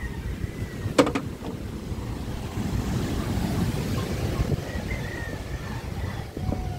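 At sea, a fishing boat's engine runs as a steady low drone beneath wind buffeting and waves washing against the hull, with a sharp knock early on; no voices.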